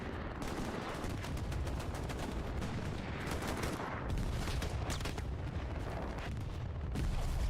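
Hell Let Loose battle din: dense, continuous gunfire and machine-gun bursts with heavy booming grenade blasts, steady and loud throughout with no talking.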